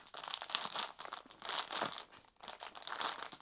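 Down comforter being opened out of its packaging, soft bursts of crinkling and rustling fabric and plastic, quiet and close, in uneven waves with no speech.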